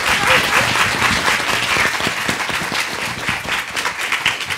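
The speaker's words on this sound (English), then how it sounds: "I want to give a big round of applause for the panelists" Audience applause for a panel of speakers at an art and feminism event at a museum, a dense steady wash of many hands clapping throughout, fairly loud and close, with no talk over it.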